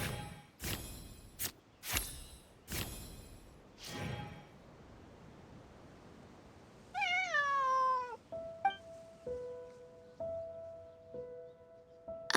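A cat in the video game Genshin Impact gives a run of clear, rising-and-falling meows around the middle, followed by a softer sustained mewing tone, after several sharp soft thumps and rustles at the start; no talking.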